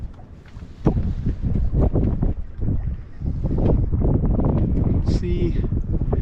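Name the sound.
wind while sailing a sailboat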